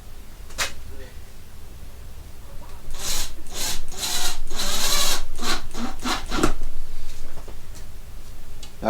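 3.5 by 40 mm screws driven into MDF, a couple of short whirring bursts of a driver, close and fairly loud, with quieter handling sounds between them.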